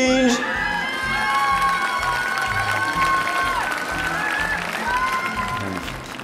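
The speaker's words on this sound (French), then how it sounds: "un tonnerre d'applaudissements pour le grand" A French audience bursts into applause and cheering for a guest at a mime-guessing show, with loud, sustained clapping, whoops and excited shouts blending with voices throughout.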